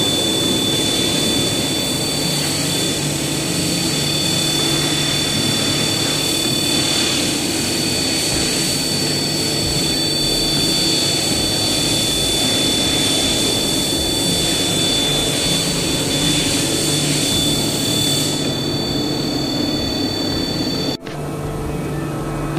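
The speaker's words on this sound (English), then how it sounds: "Stay tuned for test run for this chiller conveyor." A chiller conveyor on architectural glass tempering machinery runs on test, giving a steady, loud, broadband roar with constant whine tones, dropping briefly near the end.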